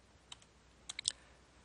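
A few sharp computer mouse clicks submitting an answer in a MyMathLab online math exercise, sparse and fairly close, the last cluster slightly louder, in an otherwise quiet room.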